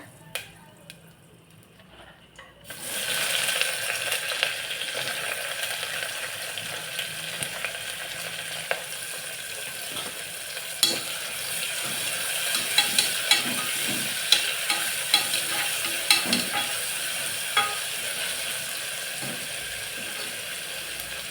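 Chopped onions with a little salt sauté in a hot pan. A quiet opening gives way to a sudden steady sizzle, broken throughout by sharp clicks and scrapes of stirring.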